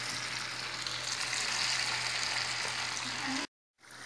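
Kharingo dough fries in hot oil with a steady, close, broadband sizzle that runs unbroken for several seconds before cutting out briefly at the end.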